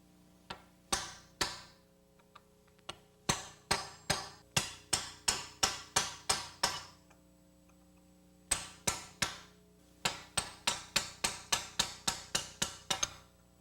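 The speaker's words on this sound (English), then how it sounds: "we strike the chisel down and it will start to draw the bushing out of the control arm" Hammer striking a chisel to drive a bushing out of a car's front-suspension control arm, sharp metallic blows in quick bursts of several strikes separated by short pauses, close and loud, with no talking.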